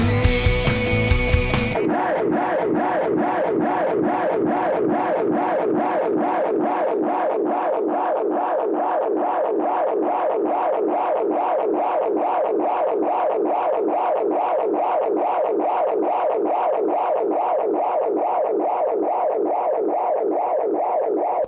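A sung vocal phrase repeats in steady echoing pulses that keep cycling and layering, a continuous delayed feedback wash that never fades out.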